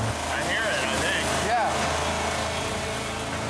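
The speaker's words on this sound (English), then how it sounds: "That penny is taking a pounding, but the engine's still running." A car engine runs with a penny lodged in its carburetor, a steady dense rumble that holds evenly throughout, with faint tonal whines drifting over it and voices talking underneath.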